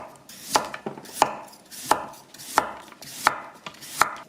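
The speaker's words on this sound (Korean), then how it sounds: "당근을 썰어 보겠습니다. 당근도 채 썰기를 할 거예요." Carrots cut into thin julienne strips with a knife on a cutting board, six sharp evenly spaced chops about two-thirds of a second apart, close and clear with no voices.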